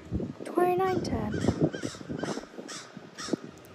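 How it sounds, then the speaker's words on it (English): Crows caw loudly and repeatedly near a school sign in Frisco, Texas, with a few harsh calls standing out over outdoor background noise while a person talks alongside. "Shut up, crows."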